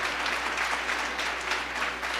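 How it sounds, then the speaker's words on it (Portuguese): A church congregation applauds hard during a sermon, a dense, steady wash of many hands clapping at once. It holds at an even level for the whole stretch, with no voices rising above it. "Pode aplaudir Jesus o mais forte que você puder."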